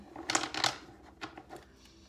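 Tarot cards shuffled in the hands, two close riffling bursts followed by a few softer flicks and taps, quiet and alone with no talking.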